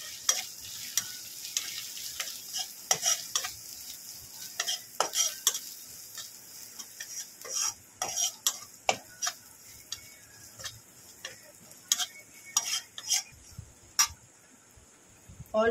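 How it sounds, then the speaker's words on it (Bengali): Spice masala of green chilli and turmeric is sautéed in a pan for doi masala bhindi: a sizzling bed broken by frequent sharp spatula clicks and scrapes in an uneven rhythm, close and clear. "মশলাটা কষিয়ে নেব।"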